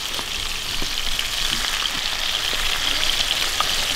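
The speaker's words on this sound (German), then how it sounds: "und jetzt wird das frittiert" Potato chips deep-fry in hot oil with a steady, dense sizzle and crackle, close and even throughout with no voices.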